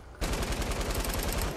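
Rapid automatic gunfire in Fortnite, with a sudden loud burst of evenly spaced shots that runs continuously and close up after a brief quiet start.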